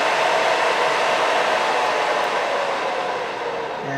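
Lenovo LOQ 15IRX9 gaming laptop cooling fan at high RPM, a loud, steady airy whoosh close by that eases slightly near the end, with no talking.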